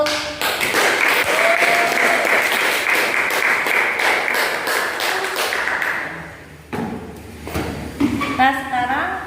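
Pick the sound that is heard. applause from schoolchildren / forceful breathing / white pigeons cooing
applause from schoolchildren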